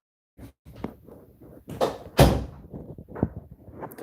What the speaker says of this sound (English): The door keeps opening because I'm in the office